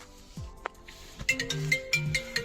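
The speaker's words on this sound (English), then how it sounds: "Once again we're getting another phone call letting us know the vehicle's under attack for a second time" A phone rings with an alert call from the Halo+ immobiliser security system on a 2023 Lexus RX450h, a repeating electronic tone pattern that starts after a few scattered knocks and handling noises.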